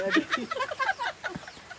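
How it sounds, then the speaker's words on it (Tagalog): Short, rapid clucking and quacking calls from a nearby mother duck, a busy chatter of clipped notes with a faint voice underneath. "Ang mother ng bibe."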